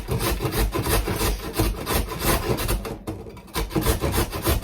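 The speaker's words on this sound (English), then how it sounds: "I actually grate the carrots." Whole carrots scraped against a grater for a homemade carrot and lentil soup, making a fast, rhythmic rasping stroke after stroke, close and fairly loud, with one brief pause midway.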